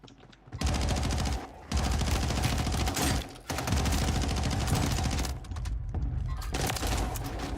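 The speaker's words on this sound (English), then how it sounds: "we're both shooting at each other" Dense rapid gunfire from players shooting at each other in a video game, loud bursts of automatic fire running almost continuously, broken by a couple of brief pauses.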